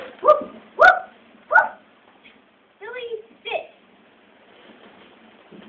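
A child imitates a sad dog's whimpers and yips during a creative drama team challenge, with three sharp whining yelps close together followed by softer drawn-out whimpering sounds, alone without other talk.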